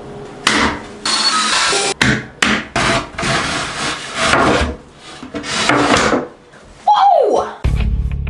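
Wall anchors go in for a laundry room shelf: a series of close, sharp knocks, scrapes and gritty grinding bursts of varying length, ending with a brief rising whine and a low rumble.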